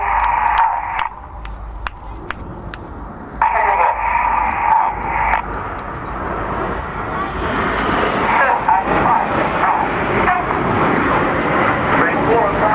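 Red Arrows jets fly a display at the RIAT 2014 airshow, with a loud continuous jet roar that builds and swells under steady commentary and a few crackling radio clicks.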